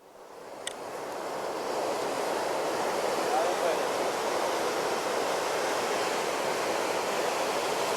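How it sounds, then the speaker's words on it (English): Ocean waves wash in a steady, broad roar of surf that swells after the first second and holds evenly, with some wind mixed in. "Listen to the sound of that ocean, those waves."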